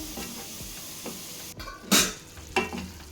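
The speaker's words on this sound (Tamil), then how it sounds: "இது எல்லா பக்கம் நல்லா ஈவனாக கலந்து விட்டுட்டு லிட்டு போட்டு மூடிடுங்க" Green chicken curry being stirred and mixed in a pan, with soft scraping strokes over a low sizzle and a couple of sharper utensil clinks against the pan, close and moderately quiet.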